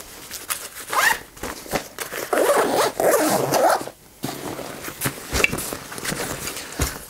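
A zipper is drawn along a mesh pocket on a Condor Frontier outdoor military backpack, the teeth rasping in several quick pulls and a short pause, close and crisp with no speech.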